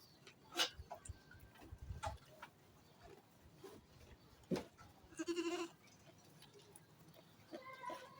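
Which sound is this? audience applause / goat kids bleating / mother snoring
goat kids bleating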